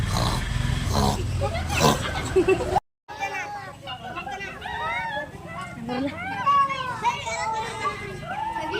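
A schoolchild doing mimicry roars like a tiger, a rough, loud burst for about three seconds, then after a brief silence keeps talking in a lively voice.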